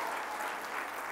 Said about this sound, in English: I wish everybody was clapping hands for this one, really.